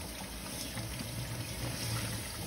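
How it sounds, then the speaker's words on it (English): Clothes dyed with Procion MX dye being rinsed in warm water in a sink with the stopper out, giving a steady, close wash of running and sloshing water that carries on without a break. "now I'm just rinsing thoroughly again"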